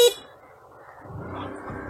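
A Hero Xoom 125 scooter horn gives one very short beep, followed by the low rumble of the scooter running.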